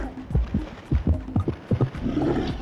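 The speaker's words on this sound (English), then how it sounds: "that little heartbeat, that noise it used to make, that was terrifying to me as a child" A low, pulsing heartbeat thumps in a steady rhythm through the dark underwater ambience of the Jak and Daxter video game, each soft double beat repeating under a faint hum with no voices.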